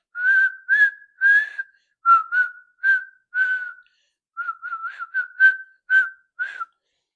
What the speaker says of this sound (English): Whistling is not my strongest suit, but I do enjoy whistling.